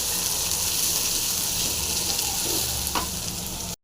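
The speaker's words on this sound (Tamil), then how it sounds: "பெரிய வெங்காயம் சாம்பார் வெங்காயம் நல்லா ஃப்ரை பண்ணிக்கலாம் நல்லா ஃப்ரை ஆகணும்" Big onions and small sambar onions fry in a pan with a loud, dense, continuous sizzle close by and one brief stir partway through, before the sound cuts off abruptly.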